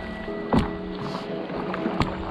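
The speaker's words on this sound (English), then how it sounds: "So now let's go for a little paddle around" Stand-up paddle board strokes dip and pull through calm water close to the microphone, a couple of distinct splashes against steady outdoor ambience and faint wind.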